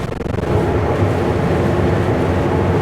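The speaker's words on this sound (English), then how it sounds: "Let's turn the engine fan on." Engine cooling fan kicking on in a Super B tractor-trailer rig driving in snow: a loud, steady broadband roar swells in about half a second and holds without a break, with no voices.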